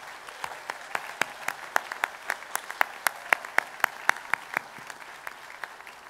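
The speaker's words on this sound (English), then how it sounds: "Everyone give her a round of applause." An audience at an awards meeting applauds. Sharp, evenly spaced nearby claps stand out over a softer wash of crowd clapping for about six seconds, then taper off.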